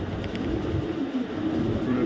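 A female Maxi racer pigeon, a high-quality light-coloured bird, coos softly close by in a low, repeating murmur, with faint voices and background noise.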